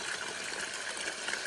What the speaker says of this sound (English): I'm gonna fill these buckets up and get them back up to the hound dogs.